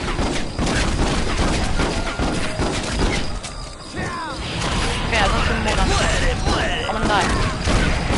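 Dense gunfire and crashing impacts from the Western shooter game Red Dead Revolver, loud and continuous throughout, with a player talking over the action.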